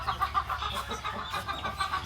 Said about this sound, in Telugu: ఈ పుంజే అది లోపల ఉన్నది.